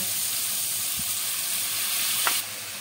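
Onion greens dropped into a hot oiled pan give a steady loud sizzle and hiss, with a brief stir clatter partway through before the frying noise drops slightly.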